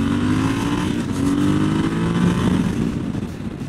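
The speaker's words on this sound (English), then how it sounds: "Ha, little rev limiter there." A Triumph Scrambler motorcycle on the road revs hard up to its rev limiter, a steady loud engine drone held close for a few seconds before easing off.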